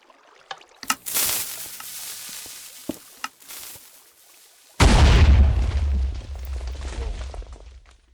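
A TNT cannon in Minecraft blasts off: after a few scattered clicks and pops comes a sudden loud explosion with a deep rumbling boom that slowly fades.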